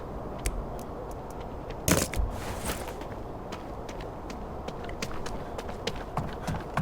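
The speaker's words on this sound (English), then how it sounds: "Hear extra footsteps." Footsteps in The Day Before, a survival video game, sound as quiet, steady taps over low background rumble, with one louder crunch partway through.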